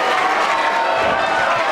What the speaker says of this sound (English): And this crowd has come unglued.